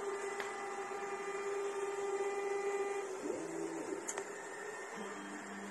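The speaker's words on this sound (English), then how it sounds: "Huge printer if you want to print some cool stuff like helmets or something." SUNLU S9 Plus large 3D printer running, its stepper motors whining in steady sustained tones that shift pitch as the moves change, with faint clicks and a low hum underneath, close and moderately quiet.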